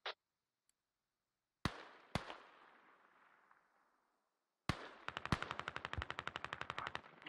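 Gunfire in the multiplayer shooter Squad: a few sharp single shots with long echoing decay, then a loud, fast automatic burst of evenly spaced rounds close by, with quiet gaps between the shots.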